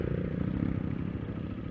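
A misfiring Honda XR dirt bike engine revs hard on a trail, a loud, close, throbbing mechanical drone with a rapid pulsing beat and no voices.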